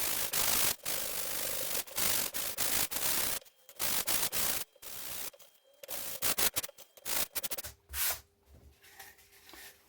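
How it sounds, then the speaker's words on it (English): Coarse used 60-grit sandpaper rubbed along the trailing edge of a balsa F5B model wing, loud close scratchy strokes in bursts with short pauses between them. "We'll take the 60 grit sandpaper and sand it down."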